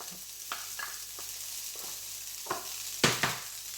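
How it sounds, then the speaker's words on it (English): Green and red onion sautéing in a pan without oil give off a soft steady sizzle, broken by scattered scrapes of stirring and a louder clattering scrape near the end, close and free of speech. "So now I'm gonna add some green onion"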